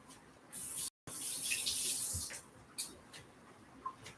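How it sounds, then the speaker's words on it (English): Yellow squash rinsed under a running tap, a steady hissing stream of water with spattering over the vegetables, briefly cut off and then resuming before trailing into a few drips and splashes. "All right, we'll rinse these off."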